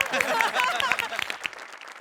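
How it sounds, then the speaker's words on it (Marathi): Audience applause at a Marathi stage comedy show rises as a brief burst of clapping, with voices talking over it throughout. "सगळ्यांचंच कौतुक. गौऱ्यासाठी पण टाळ्या."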